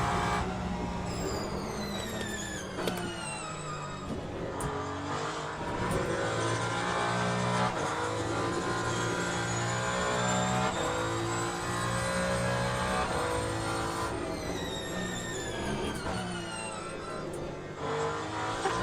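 A Ferrari hypercar races around Imola in the sim game Le Mans Ultimate, its engine loud and continuous, rising and falling through gear shifts with brief tire squeals, alone without talk.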